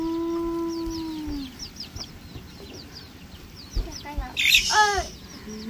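Chickens cluck and call close by in a farmyard, with sharp bursts near the end over a low background. A voice is heard briefly near the start.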